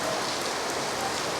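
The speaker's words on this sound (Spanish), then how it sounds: "Oh, mire cómo se largó, hay granizo." Hail and heavy rain pouring down outdoors, a steady dense hiss of drops striking surfaces without a break, fairly loud and close, with no voices over it.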